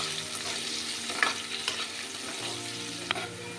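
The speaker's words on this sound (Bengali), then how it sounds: "এরপরে সেই তেলে দিয়ে দেবো আমি কেটে রাখা আলুর পিসগুলো" Cut potato pieces fry in hot oil, giving a continuous close sizzle with occasional scraping clicks of stirring and no talk.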